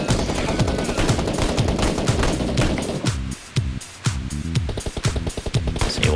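Rapid bursts of gunfire from a PUBG Mobile snap shooting drill, loud and repeated in quick volleys, with a short lull midway before the shooting resumes.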